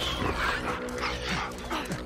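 A dog in the video game The Last of Us Part II gives loud, close yips and whimpering barks amid busy in-game noise, with faint voices.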